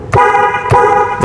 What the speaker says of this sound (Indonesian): Yang tipe prime dia sudah dapat premium horn.